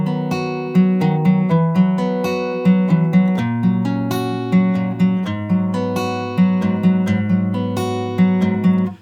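Guitar line from a song, clean picked notes over shifting chords in a gentle steady pulse, played through once without repeats; close and clear, no voices.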